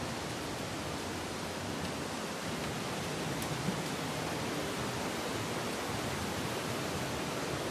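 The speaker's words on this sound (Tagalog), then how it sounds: "At yung maliit na falls na yun" A small waterfall at Wawa Dam roars with a steady, broad rush of falling water, loud and unbroken throughout with no voices.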